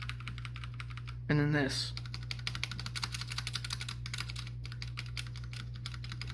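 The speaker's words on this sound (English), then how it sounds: "you notice that the stabilizers are stabs, and they are beyond rattly" Rattly stabilized keys on a MageGee MK-Box 60% portable mechanical keyboard are pressed one after another as a string of sharp clacks over a faint steady hum. A short spoken remark comes in alongside the clatter.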